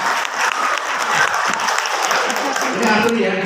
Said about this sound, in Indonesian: Ya, tepuk tangan dong buat yang ini dong.